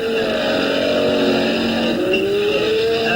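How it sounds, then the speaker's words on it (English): Racing car engines roar loudly together, their pitch rising and shifting as the cars accelerate at high speed down a long back straight, recorded in 1970. "the cars stream away down the long back straight"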